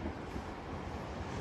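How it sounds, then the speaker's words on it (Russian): Waves on Lake Baikal wash and roll steadily through a windy, broadband rumble, with gusts buffeting the microphone for the whole short stretch and no voices. "Такие волны, конечно, сумасшедшие."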